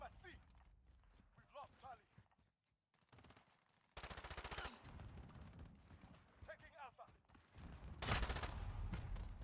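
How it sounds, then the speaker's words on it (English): Machine gun fire in a duos video game match: dense rattling bursts arrive in loud salvos, with quieter stretches between them, and voices talk over parts of the action. "he's using a machine gun on that one"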